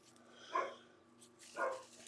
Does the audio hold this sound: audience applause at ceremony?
no